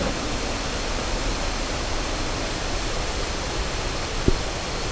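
A tiered waterfall in a forest beside a campsite pours in a steady, broad rush of water, constant and enveloping, with one brief knock near the end.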